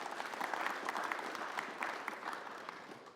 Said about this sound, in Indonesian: Kita aplaus untuk semuanya.